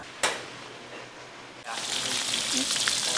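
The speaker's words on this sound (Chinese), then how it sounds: "我把五花肉给它煎一下油， 再放一些咸菜进来炒一下" Pork belly sizzles in a wok as its fat renders before pickled vegetables go in, for a home-style Chaoshan dish. A soft hiss swells abruptly into a steady, fairly loud crackling fry partway through.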